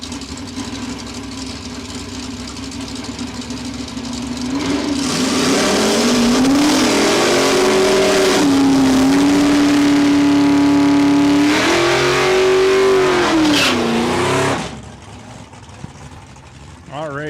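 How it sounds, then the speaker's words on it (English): A drag car's engine at Saskatchewan International Raceway test and tune revs up hard and holds a loud, roaring pitch through a burnout, wavering up and down before cutting off. An idle follows. "Ready for the big noise, the burnouts, all that good stuff here."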